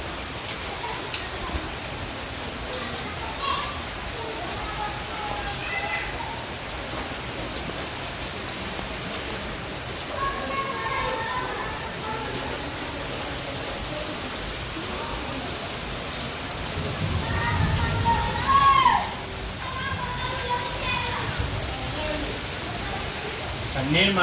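Heavy rain pours steadily over a village, a constant broadband hiss with a louder swell near the end and faint other sounds in the background.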